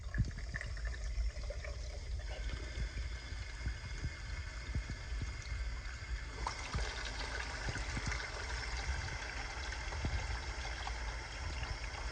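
Water runs steadily into a container with a continuous gurgling rush, close by, the sound shifting slightly as the vessel fills.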